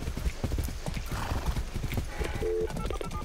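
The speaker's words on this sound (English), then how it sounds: "That's a good horse." Horse hooves clip-clop in a steady rhythm inside the video game Far Cry 6, with a brief whinny near the end, all fairly quiet and close.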